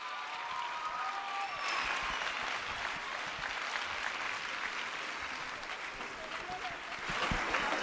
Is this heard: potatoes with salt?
no